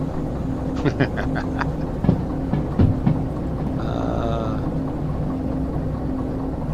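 A train rumbles and clanks through a VR railway game, with scattered metallic knocks and a brief whistle-like tone partway through, steady background noise, no talking.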